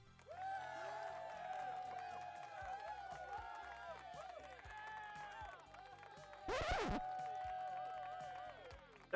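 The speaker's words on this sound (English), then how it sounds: "That is a really long cheer." A large crowd cheers and whoops without pause, many overlapping voices sustained throughout, with a sharp louder burst partway through.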